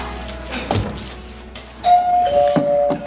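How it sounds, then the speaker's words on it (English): A doorbell chimes twice, two clear sustained tones ringing out loudly after a few soft knocks and bumps. "Doorbell."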